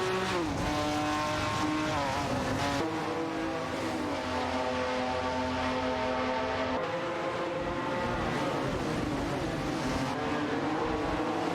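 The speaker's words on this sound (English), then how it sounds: "Kishiro in the Chevrolet Camaro Z2869 is battling it out with Chauncey in the Plymouth Superbird 70 for the 27th position" Race cars in an AI racing video game, including a Chevrolet Camaro and a 1970 Plymouth Superbird, roar with loud sustained engine whine that rises and falls in pitch as they pass and shift, with no voices.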